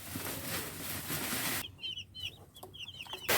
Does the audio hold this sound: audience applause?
no